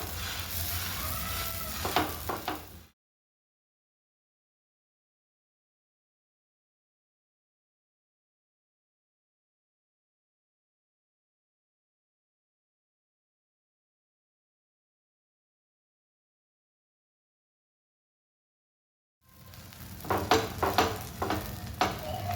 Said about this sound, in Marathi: दोन्ही साईडला आपल्या बटर लागलं जाईल आणि असं करून आपल्याला भाजून घ्यायचं आहे